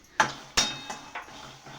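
A few sharp metallic scrapes and clinks of a spatula stirring dry chickpeas roasting in a heavy iron pan, spaced irregularly, close and fairly quiet.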